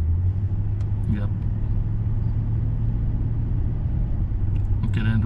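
A car engine rumbles steadily at constant speed while a teenager drives under instruction, with a low continuous drone and a couple of brief higher sounds near the start and end.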